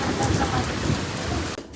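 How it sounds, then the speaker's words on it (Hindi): Heavy rain pours down in a steady, dense hiss while rooftop runoff rushes nearby, loud and continuous throughout. "देखो ये बूंदे बहुत तेज पड़ रही हैं और इधर देखो पानी बहुत तेज आ रहा है इस साइड में"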